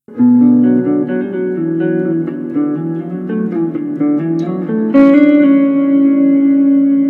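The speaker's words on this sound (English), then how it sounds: "This reverb takes over your tone, makes it feels like it's raining in your basement." Electric guitar chords drenched in a dense, washy reverb that smears each note into a lingering cloud, with a swelling chord near the end.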